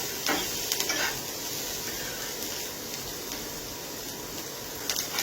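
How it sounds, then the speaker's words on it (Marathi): Chopped onion sizzles and hisses steadily in a hot pan while being fried for a spicy Maharashtrian misal masala, with a few scraping stir clicks near the start and end over the continuous frying hiss. "कांदा छान गुलाबी रंगावर भाजून घ्यायचा आहे"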